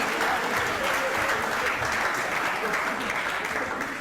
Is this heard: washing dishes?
no